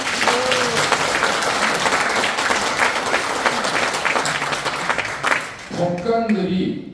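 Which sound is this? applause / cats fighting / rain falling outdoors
applause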